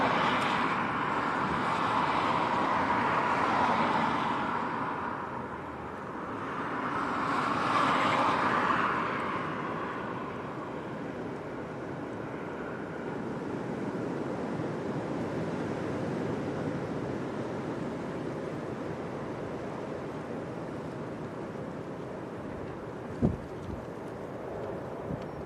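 Strong gusting wind from Storm Eowyn at Leeds Bradford Airport, a broad steady rushing with two louder swells in the first ten seconds, then a continuous buffeting hiss with a brief knock near the end.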